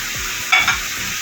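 Tomato dropped into a hot pan of frying chicken stew with beans, a loud close sizzle with a brief splash and stirring, no voices.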